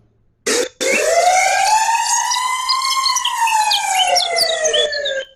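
A loud ambulance siren wails, rising and falling in a long sweeping tone, continuous after a brief start, close and prominent with no talking.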